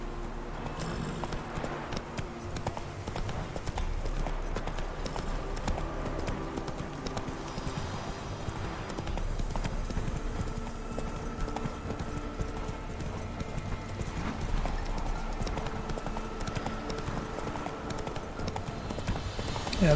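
Hooves clop steadily as a horse gallops without a break in The Witcher 3: Wild Hunt, set in a busy bed of game music and ambient noise.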